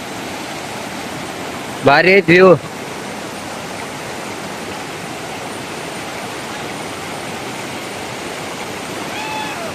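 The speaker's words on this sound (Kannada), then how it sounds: "ನೀರ್ ಸೌಂಡ್ ಇಲ್ಲಿ ಮಠ ಬರತ್ತದ." A river at Dandeli rushes with a constant broadband roar throughout, near and fairly loud, while a person speaks briefly early on.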